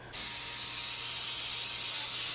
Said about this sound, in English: I switch over to the acrylic burr, and I'm just going to go around and remove roughly all of this flash and like melted part.